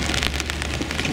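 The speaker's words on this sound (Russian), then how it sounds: "И сейчас заливает дождь." Heavy rain pouring down on a yacht during a stormy winter night in Montenegro, a dense, loud hiss of drops hitting surfaces, close by and unbroken for a brief moment.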